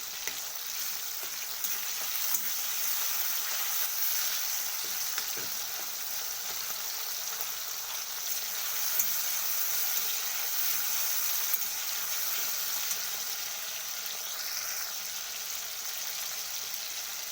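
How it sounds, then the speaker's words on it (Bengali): Tomato fries lightly in a pan, giving a steady, moderate sizzle that continues without a break, with a few faint scrapes now and then. "তো দেখুন টমেটোটা আমি একটু হালকা ভেজে নেবো"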